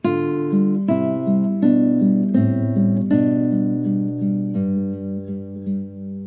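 A guitar plays a short melodic phrase of plucked notes, about seven notes in an even rhythm, clean and close with ringing sustain.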